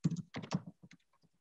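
Typing on a computer keyboard during a design computing lesson, a few quick clustered key presses in short bursts, close and fairly soft, with quiet gaps between them.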